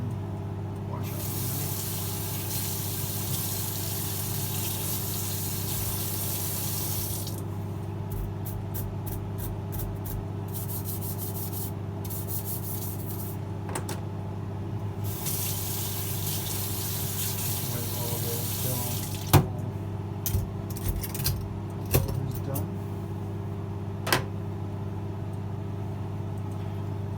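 A kitchen tap runs in long steady gushes as a plastic container is rinsed after feta cheese is cut, with a few short clinks near the end and no talk.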